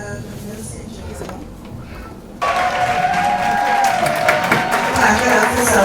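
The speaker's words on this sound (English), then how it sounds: "Clap it up for Zoe" Guests at an 80th birthday party break into applause and cheering after a short quieter stretch with faint voices, the clapping starting abruptly and continuing loud and dense.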